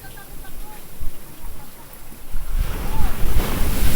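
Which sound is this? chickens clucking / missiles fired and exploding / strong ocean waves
strong ocean waves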